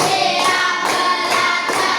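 Schoolchildren clap in unison to a counted rhythm in a classroom, several bright group claps at steady intervals, near and loud, alone without talk.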